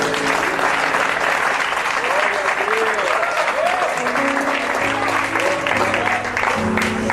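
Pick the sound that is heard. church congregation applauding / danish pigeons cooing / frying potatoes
church congregation applauding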